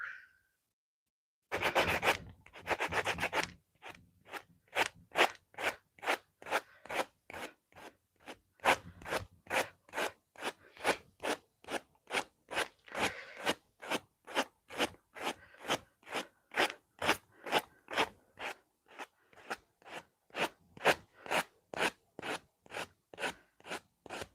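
A knife is sharpened after assembly in a sawdusty workshop, with a long series of steady, rhythmic rasping strokes, close and fairly loud, following a brief burst of rapid scraping at the start.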